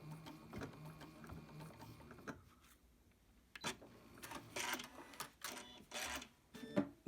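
A domestic sewing machine stitching quilt pieces for a piano keys block, with short whirring bursts of stitching that stop, start and stop again, close up and moderately quiet.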